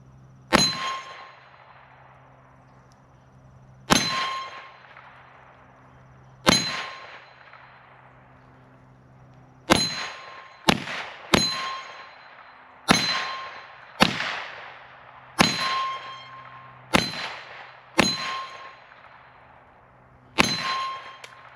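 Sharp shots from a Kel-Tec Sub 2000 Gen 3 9mm carbine fired outdoors, about a dozen in irregular spacing with longer gaps early and quicker pairs later, each with a ringing metallic ping from a steel target.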